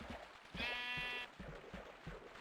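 Sheep in the Minecraft video game giving a short nasal bleat amid quiet rhythmic game sounds like footsteps, faint and brief.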